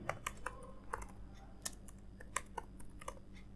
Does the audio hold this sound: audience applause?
no